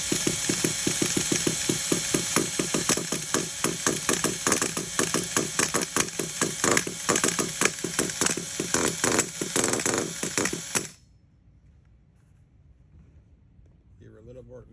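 A Hobao Hyper SS nitro truggy engine being primed, heard as a rapid, rhythmic rasping pull-start churn, loud and close for about eleven seconds, then stopping abruptly into near silence.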